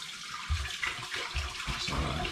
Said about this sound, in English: I'm now going to pour this back into the still, which is still hot